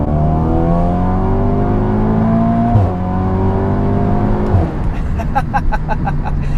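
Big turbo Audi S3 accelerating hard from inside, the engine note climbing steadily through a gear, dropping at a shift, pulling again, then a turbo flutter and whooshes as the throttle lifts.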